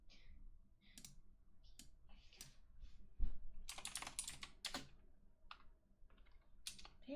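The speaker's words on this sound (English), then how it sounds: "Very loud typing." Loud, close typing on a computer keyboard: irregular bursts of sharp key clicks and clacks with brief pauses between, including a heavier thump midway, no voices.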